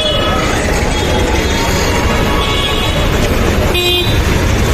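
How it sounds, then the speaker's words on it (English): A busy bus stand in Rajasthan, India, fills with dense, loud traffic rumble as buses come and go, with one brief horn toot cutting through near the end. "Lot of buses are here, coming, going."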